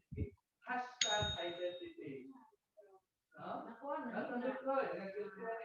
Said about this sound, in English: Rans, if you hear the bell, that means that your time is up.